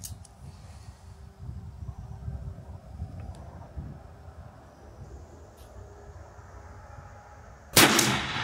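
A Serpent Arms airgun shotgun fires a number 6 tungsten shot shell outdoors, one loud, sharp blast near the end that follows a quiet stretch of low background rumble.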